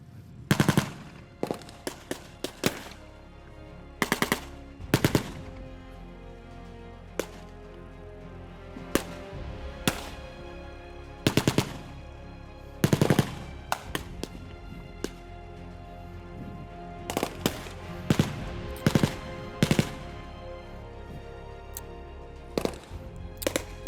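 Gunfire crackles through a Gulf War tank battle re-enactment: repeated sharp bursts and single shots, some in rapid machine-gun strings, loud and spaced irregularly over a low background rumble, with no voices.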